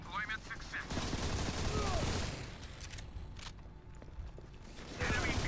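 Turret gunfire in the Modern Combat 4: Zero Hour shooter game rattles in rapid bursts amid game noise, with a player talking over it.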